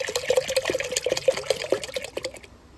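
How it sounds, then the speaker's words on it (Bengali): Water poured into a pot of dal while cooking sambar, a close, steady splashing trickle with small bubbling pops that runs for about two and a half seconds, then stops. "আর একটু জল লাগবে, একটু জল দিও"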